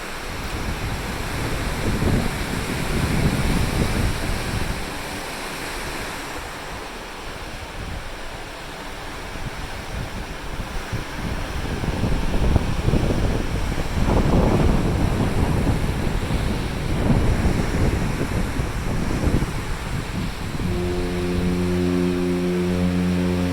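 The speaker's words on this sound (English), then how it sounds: "The waves are huge, it's hard to tell." Large Atlantic Ocean waves seen from the MSC Meraviglia cruise ship, a steady broad roar of surf heavily mixed with wind buffeting the microphone, continuous and loud with surging swells.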